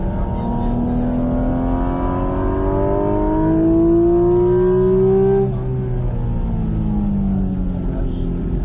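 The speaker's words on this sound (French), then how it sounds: "Et on réaccélère ici." A car accelerates hard on the Bresse racing circuit, its engine note climbing steadily through the rev range before a brief drop as it shifts, then pulling again, loud and close throughout.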